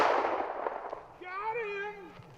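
A single gunshot cracks out during an outdoor rabbit hunt, a sharp burst that decays quickly, followed by people talking nearby.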